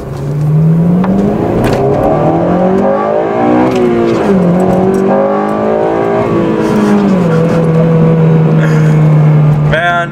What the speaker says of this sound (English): we'll hit VTEC one more time